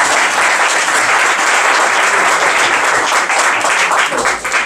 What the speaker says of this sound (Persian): تشویق